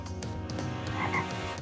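A cartoon frog croaks in a bouncy run of rapid, throaty croaks, close and clear against a musical backdrop.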